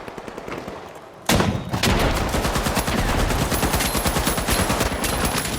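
Gunfire in the video game The Finals: a quieter stretch of scattered shots, then a loud, dense burst of rapid automatic fire rattling on continuously to the end.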